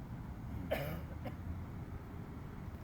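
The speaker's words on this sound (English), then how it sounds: "Some old guy's walking behind me coughing." A man coughs twice, briefly and at some distance, over a steady background hum.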